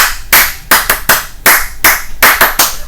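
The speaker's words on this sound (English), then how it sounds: "and I can either clap that," Hands clap out a distinct, repeating rhythmic pattern used to call children, with sharp, close, loud claps in short grouped beats and brief gaps between them.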